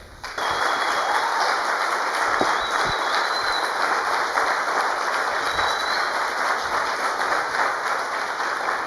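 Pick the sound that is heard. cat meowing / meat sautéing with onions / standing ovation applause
standing ovation applause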